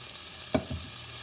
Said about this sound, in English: now I'm going to put the meat back into the frying pan